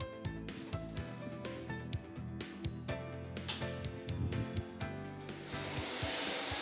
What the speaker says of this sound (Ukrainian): Вмикаємо лототрон.